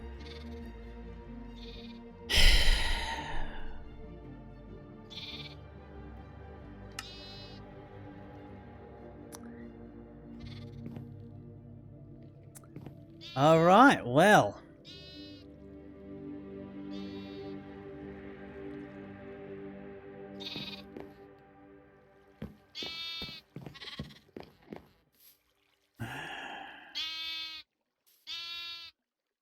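Sheep bleats from the video game Modern Skyblock 3, several short wavering calls at scattered points, some louder and closer, over a quiet humming game background, with a brief spoken remark.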